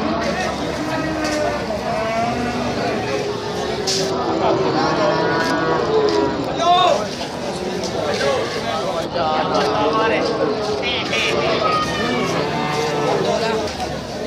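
Cattle moo loudly and repeatedly at the Wonoasih Saturday cattle market, long drawn-out calls from several animals overlapping amid a busy crowd, with people talking throughout.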